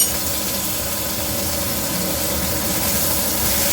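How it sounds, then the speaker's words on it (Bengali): Potatoes frying lightly in a pan for a vegetarian dish, a steady broadband hiss and sizzle running evenly throughout with no talk. "আলুগুলোকে দিয়ে এবার একটুখানি ভেজে নিচ্ছি হালকা।"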